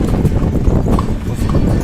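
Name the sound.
horse hooves clip-clopping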